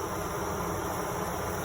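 Honeybees buzz steadily around a hive where a queen is being tended by attendants, a close, continuous droning hum with no pause.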